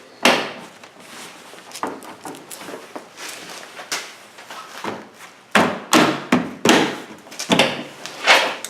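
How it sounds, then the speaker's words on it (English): A series of sharp plastic snaps and thuds as Jeep door panel clips pop into place, several close taps and pops in quick succession, louder toward the end, with no talking. "Then we can pop our clips back in."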